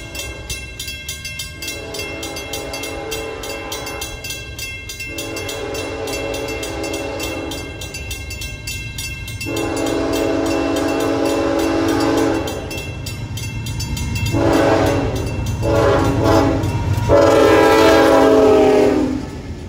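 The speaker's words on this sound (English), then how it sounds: "it's a train." Freight train passing close by, its horn sounding in repeated long blasts, loud over a steady rumble of rail cars.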